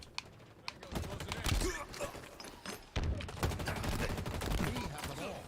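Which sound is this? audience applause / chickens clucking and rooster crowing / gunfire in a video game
gunfire in a video game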